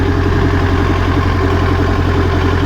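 Engine idling steadily right after being started, a loud, close, continuous low throbbing drone with an even pulsing rhythm.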